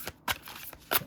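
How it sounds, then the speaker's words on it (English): Overhand shuffling of a deck of playing cards, heard up close as three quick papery riffling bursts with short gaps between them and no talk. "I shuffle, and then I do some overhand shuffle"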